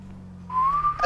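A person whistles a single rising tone that starts about halfway through and holds briefly, with a low hum underneath, in a GTA roleplay voice chat.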